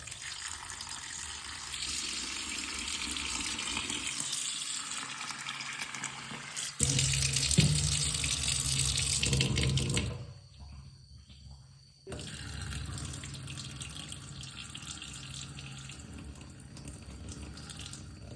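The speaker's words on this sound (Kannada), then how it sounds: "ಅದನ್ನು ಸ್ವಲ್ಪ ತಣ್ಣೀರಲ್ಲಿ ತೊಳ್ಕೊಳ್ಳೋಣ" Cold tap water pours into a sink as soya chunks are rinsed, a close, steady gush that swells louder, briefly drops away and then resumes.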